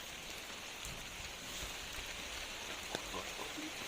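Heavy rain pours steadily outdoors on a hill in Batangas, a dense continuous hiss of drops striking surfaces at moderate, even loudness, with a few sharper nearby drips and a faint voice.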